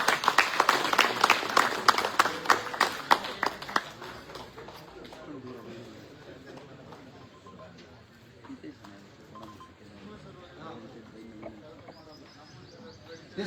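Loud applause from an audience at an inauguration ceremony of a cooperative society in Arsikere, dense clapping for about four seconds, then tapering into scattered claps and murmuring.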